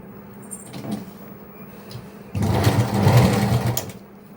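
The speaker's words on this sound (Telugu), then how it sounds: "ఇప్పుడు దీనికి సెంటర్లో నుంచి ఇంకొక స్టిచ్ వేసుకుందామండి." A sewing machine runs one short, loud, fast whirring burst of stitches across layered lehenga fabric, preceded by quiet handling of the cloth.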